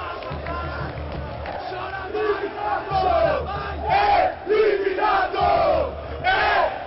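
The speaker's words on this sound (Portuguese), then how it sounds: "Jogadores embaixo também cantando com a torcida do Palmeiras." Palmeiras supporters chant in a rival's stadium during a 2015 Corinthians–Palmeiras semifinal, a massed, loud, rhythmic song in rising and falling phrases, with players below joining in.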